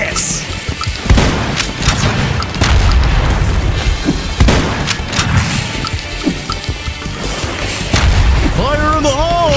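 Grenade blasts go off in the action game Huntdown, with loud booms rolling over gunfire, music and game noise. A voice speaks amid the chaos.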